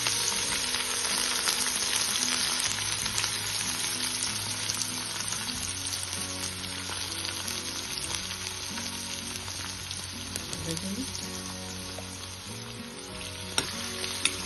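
Spring onion frying with green chili, garlic and peanuts in hot oil, a dense, continuous loud sizzle throughout with faint stirring, no voices.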